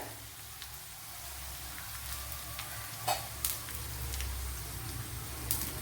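Two dried red chillies sizzle in hot oil for a Kerala-style jackfruit dish, giving a steady, soft frying hiss with a few faint pops and stirring clicks.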